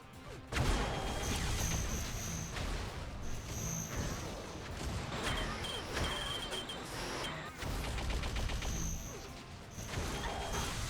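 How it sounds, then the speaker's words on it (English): Rapid gunfire and crashing impacts from the arena shooter Unreal Tournament fill a competitive match, dense bursts of shots and hits rattling nearly nonstop at close range. "Shots flying around the map."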